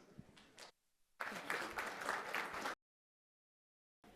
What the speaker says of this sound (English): please give a big round of applause to Congresswoman Kim and Chris.